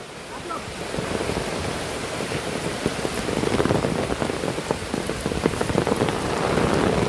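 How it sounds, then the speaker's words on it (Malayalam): Heavy rain pouring down beside a swollen mountain stream in Kerala, a dense steady hiss of drops on surfaces and rushing water, loud and continuous throughout. "മഴ അലമ്പുണ്ടാക്കുന്നുണ്ട് കേട്ടോ."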